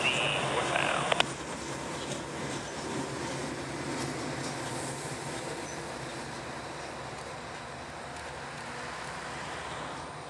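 CSX B371 light engines rolling through Florida's Bone Valley toward New Wales on a summer afternoon, heard as a steady, moderately distant rumble of locomotives and wheels, with a brief click near the start.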